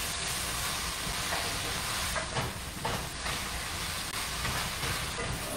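Summer greens cook down in a high-sided frittata pan with a continuous soft hiss and sizzle of steam, steady and fairly quiet throughout.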